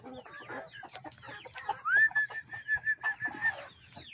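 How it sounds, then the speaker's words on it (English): Chickens at feeding time cluck and murmur close by, with one drawn-out, wavering call rising above a series of short, rhythmic clucks. "So we're going to go ahead and feed our chickens."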